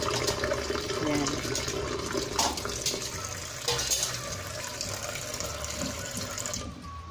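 A cooked fish is dipped into a basin of cold water, giving faint sloshing and splashing close by in a home kitchen, with a few louder splashes and quiet talk in the background.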